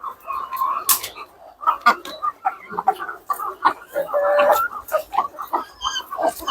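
Hens on a poultry egg farm cluck and squawk in short irregular bursts, close by, with other birds and a voice mixed in among the calls.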